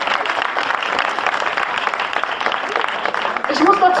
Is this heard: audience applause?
yes